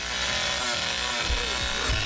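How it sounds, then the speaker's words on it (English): Leatherface's chainsaw in The Texas Chain Saw Massacre game: a loud, continuous buzzing roar of the running saw, rough and close, with low thumping impacts near the end. "Chainsaw stalled."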